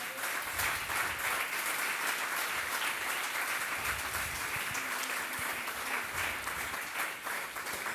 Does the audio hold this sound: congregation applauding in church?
yes